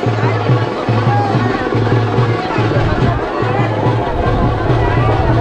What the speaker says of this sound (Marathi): गर्दी तर एवढे आहे